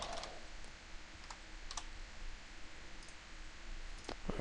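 Soft, irregular keystrokes on a computer keyboard while code is typed, a few quick clusters of clicks spread across a quiet background with no voices.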